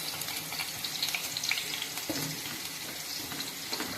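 Onions frying in a pan of oil as the first step of a Telugu fish curry (chepala pulusu), giving a steady, close crackling sizzle with small spits and pops throughout, no voices.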